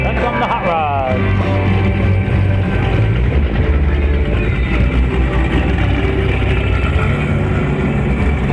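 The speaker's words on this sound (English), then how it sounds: "Then come the hot rods." Hot rod cars roll past in a parade with steady loud engine rumble and traffic noise throughout, while a voice talks over the passing vehicles.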